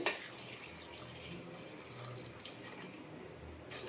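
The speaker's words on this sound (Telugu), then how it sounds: "వాటర్ పోసుకుందామండి." Water pours steadily into a pressure cooker holding rajma, a continuous splashing stream that is fairly quiet and close, with a faint metallic ring.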